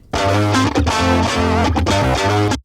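A buzzy, distorted synth plays sustained chords in a steady rhythmic pattern, loud and thick, with brief gaps between phrases before stopping abruptly.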